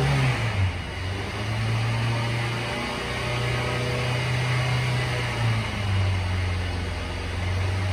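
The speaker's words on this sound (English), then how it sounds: "Engine revs up nice," A 2017 Hyundai Santa Fe 2.4L engine hums steadily at idle, then its pitch rises and falls in a few smooth revs, close and fairly loud.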